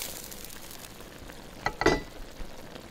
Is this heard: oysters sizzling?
yes